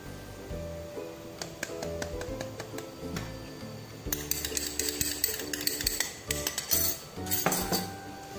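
Martabak manis batter with sugar being stirred in a bowl: repeated clinking and scraping of a utensil against the bowl, alone and close, with a busier, louder stretch of knocks in the second half.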